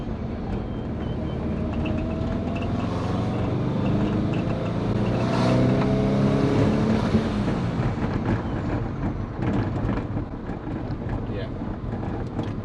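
A big-turbo Subaru Forester SF5 with a swapped six-speed manual pulls hard in third gear. A loud engine drone rises in pitch, heard from inside the cabin, with wind and road noise underneath.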